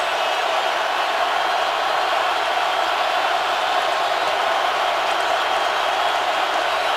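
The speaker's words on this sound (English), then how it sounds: "Crowd noise at full thrust." Dense, steady roar of a stadium crowd at a Steelers versus Seahawks NFL game, a loud wash of noise that holds at full strength throughout, with no individual voices standing out.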